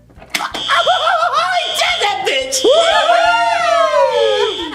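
A school fire alarm rings as a steady high electronic tone behind loud, overlapping voices talking and shouting close by.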